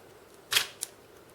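A DSLR camera's mirror snaps up in mirror-up mode during slide and negative scanning: one sharp mechanical clack followed by a smaller, softer click, close and isolated against quiet.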